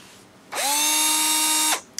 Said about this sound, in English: Drill with 3/8 inch bit.